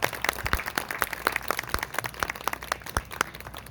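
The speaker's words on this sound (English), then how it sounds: "So give her a very nice warm round of applause." An audience at a witch festival claps to welcome a speaker, a dense patter of many hands with sharp individual claps, moderately close and steady for several seconds.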